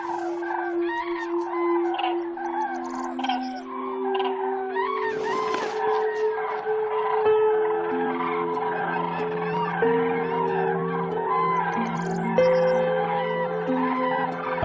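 A large flock of common cranes wintering in the Spanish dehesa keeps up a steady chorus of trumpeting calls, many birds overlapping at once at moderate distance, with no voices over it.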